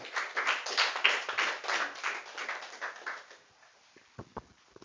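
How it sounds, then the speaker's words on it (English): Audience applause at a school debate competition, a burst of dense clapping from a moderate distance that fades after about three seconds into a few scattered claps. "Clap."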